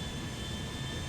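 Airbus A340-300 jet engines spooling up for takeoff in GTA 5: a dense, constant roar with a steady high whine, loud and unbroken through the short stretch.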